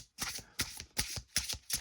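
Tarot cards drawn from a deck and laid out one at a time, giving four quick papery flicks and slaps in a steady rhythm, close and crisp with short pauses between.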